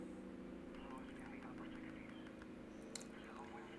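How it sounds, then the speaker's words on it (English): A loud helicopter drones low over a house, a steady broadband rotor and engine rumble that fills the scene continuously, with speech over it. "There's another very loud helicopter going over the house."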